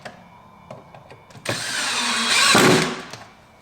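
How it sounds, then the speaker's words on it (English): Power drill driving pocket screws into an OSB shop counter: a few faint clicks, then a loud close whirring burst of about two seconds that rises in pitch and strain before stopping abruptly. "and then put the pocket screws in"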